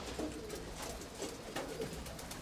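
Soft pigeon cooing repeats a few times beneath a steady wash of background noise, faint and somewhat distant.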